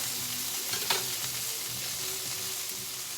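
Steak searing in a hot pan on a stovetop, a steady loud sizzle and crackle of frying fat continuing without pause throughout, no talking.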